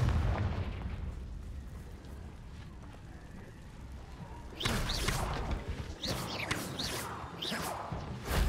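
A magical fire spell bursts into explosions in the Hogwarts Legacy video game, with a rumbling blast after several seconds of low game ambience, followed by further crackling booms and pops.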